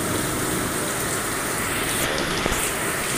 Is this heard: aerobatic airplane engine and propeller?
no